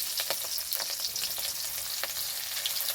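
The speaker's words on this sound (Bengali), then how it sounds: "ভালো করে নাড়াচাড়া করে ভেজে নেব" Chopped onion and green chillies hiss and crackle in a hot wok of chili chicken, with quick stirring scrapes breaking through a steady, close sizzle throughout.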